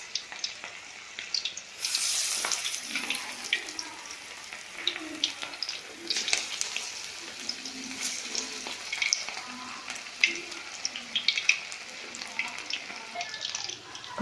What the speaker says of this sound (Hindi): अब इसको फ्राई होने देंगे।